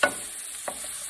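Chicken for Chicken Marsala fries in a pan with butter, giving a steady, close sizzle that opens with a brief louder crackle and has one faint tap partway through.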